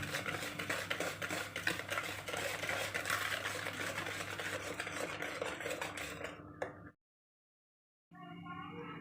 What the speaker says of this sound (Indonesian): Setelah itu kita tambahkan 4 kuning telurnya aja, lanjut diaduk lagi sampai rata